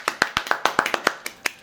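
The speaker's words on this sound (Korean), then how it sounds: "박수!" A small group claps to welcome a guest onto a talk show. A quick run of a dozen or so crisp, close hand claps sounds alone without speech.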